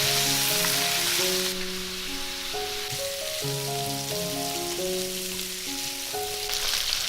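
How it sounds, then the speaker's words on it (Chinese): Duck meat stir-fries in a little oil in a wok, a continuous bright sizzle that softens slightly midway, with background music playing over it. "把鸭肉先放下来炒香。"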